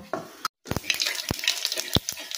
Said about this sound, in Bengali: এবার আমি তেলের মধ্যে জিরা ফোড়ন দিয়ে দেবো।